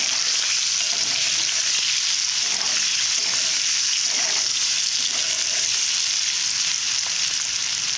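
Potatoes and carrots with turmeric fry in a wok, a loud, steady sizzle with scraping stir sounds running throughout, close and without voices.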